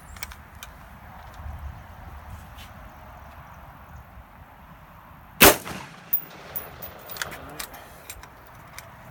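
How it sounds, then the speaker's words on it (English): A Colt A2 rifle fires its final round in a single sharp, loud crack, followed by a few faint metallic clicks and handling noises against a quiet outdoor background. "So let's take a final shot on that one."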